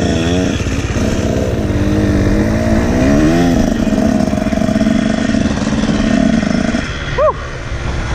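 A Husqvarna TC125 two-stroke motocross bike revs loudly and close, its engine pitch climbing and falling in repeated blips before settling into a steady high drone.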